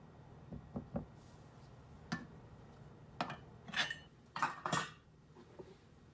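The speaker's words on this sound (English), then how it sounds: "We'll use this just to stir it with instead of dirtying up another dish." A spoon stirs homemade coffee syrup in a container, producing a series of light clinks and taps against the sides, sparse at first and then quicker and brighter, close and fairly quiet.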